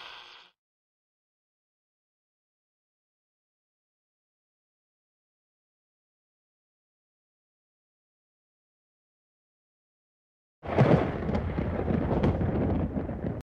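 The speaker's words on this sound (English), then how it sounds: "Since it took 10 seconds to hear the thunder, the lightning is about 2 miles away." After a brief burst and a long silence, a loud, rumbling crash of thunder rolls in and sustains to the end, heard after lightning in an educational weather video game.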